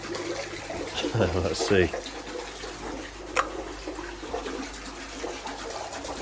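Tap water runs into a container to agitate Foam B Clear foam, making a soft, uneven splashing gurgle close by. A voice speaks briefly at the start, and a sharp clink comes midway.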